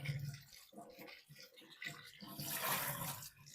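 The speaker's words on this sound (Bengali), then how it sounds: "এবার আমি এগুলোকে জল দিয়ে ভালো করে আমি ধুয়ে পরিষ্কার করে" Cauliflower pieces are rinsed in water, with soft splashing and sloshing close by that swells and fades in uneven surges, the water noise growing fuller toward the end.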